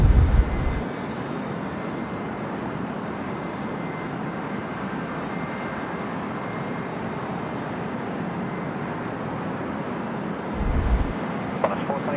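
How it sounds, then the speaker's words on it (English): Malaysia Airlines Airbus A330-300 jet on short final to runway 25 at Sydney Airport, a steady broadband roar that holds for the whole stretch, with low rumbles swelling at the start and near the end. "A330 300, Malaysian 123 coming in from Kuala Lumpur now. Short finals, runway 25."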